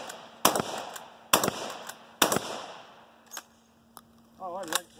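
A Rock Island Armory shotgun firing old Federal rounds outdoors: three loud, sharp blasts spaced about a second apart, then a fainter report and a brief short voice near the end.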